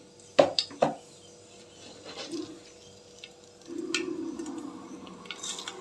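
Mustard seeds drop into hot oil in a pan for tomato rice, giving a few faint, close pops and ticks near the start that fade into a quiet, soft sizzle.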